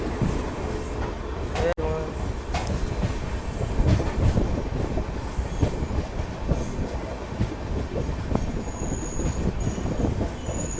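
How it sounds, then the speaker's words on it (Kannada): The Thiruvananthapuram–Hazrat Nizamuddin Superfast Express rolls through Bhatkal railway station with continuous rumbling wheels, clattering wagons and squealing rail noise at close range, with voices faintly under it. "Thiruvananthapuram Hazrat Nizamuddin super fast express"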